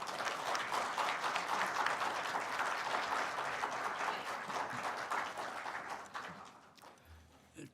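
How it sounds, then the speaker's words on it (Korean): Sustained audience applause at a Korean press association commemoration ceremony, steady and dense clapping filling the hall for about six seconds before tapering off near the end. "우리 정진석 선생님 일어나서 조금 박수 좀 보내주시기 바랍니다"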